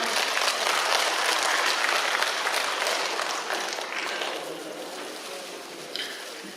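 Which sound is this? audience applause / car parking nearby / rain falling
audience applause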